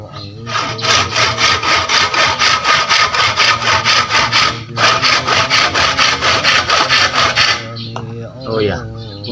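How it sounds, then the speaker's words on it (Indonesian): A hand saw cuts through bamboo with loud, close, rhythmic back-and-forth rasping strokes. The sawing pauses briefly partway through, resumes, then stops near the end. "untuk cara memotong bambu ini supaya lebih mudah, kemudian gergaji tidak mudah nyepit dan tidak mudah tumpul, ini harus kita putar ya"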